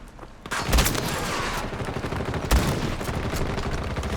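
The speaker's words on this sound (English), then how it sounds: "I've literally got no bullets. Shotgun time." Shotgun fire in the video game Battlefield 2042: two heavy booming blasts about two seconds apart over a constant dense roar of battle noise, loud and close.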